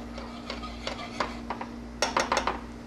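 A utensil stirs Dijon mustard into a pan sauce for filet mignon, producing a string of light clicks and taps against the pan, sparse at first and then a quick cluster of sharper knocks; no talking.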